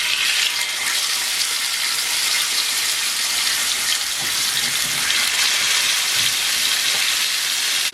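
Lamb chops frying in a hot pan give a loud, close, continuous sizzle with crackling spatter that holds steady throughout, alone with no voices.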